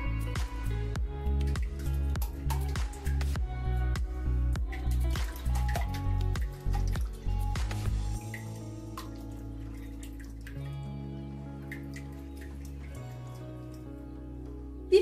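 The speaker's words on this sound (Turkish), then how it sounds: "Önce sıvı malzemeleri karıştıracağım." Liquid ingredients for a savory olive oil and olive loaf cake whisked in a bowl, a quick steady clicking and sloshing rhythm for about eight seconds, then a quieter liquid pour with soft drips.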